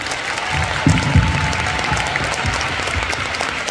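Audience applause at a fan meeting in Japan, a steady dense wash of many hands clapping from a large crowd, with a couple of louder bursts near the start and no talk over it.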